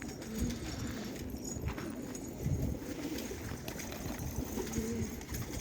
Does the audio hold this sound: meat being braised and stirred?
no